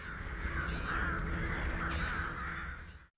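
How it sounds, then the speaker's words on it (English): Crows cawing from a flock of birds swirling in the sky, harsh repeated caws layered over a steady loud wash of bird calls that runs throughout, then cuts off abruptly. "Liv notices a flock of birds swirling strangely in the sky"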